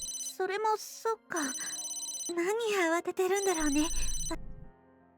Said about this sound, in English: Hey Tsubaki, your cell phone is ringing